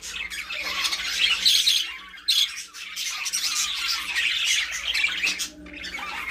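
Pet birds squawking in a breeding cage of seven pairs, with harsh calls and chirps overlapping continuously and close by throughout, with no talk.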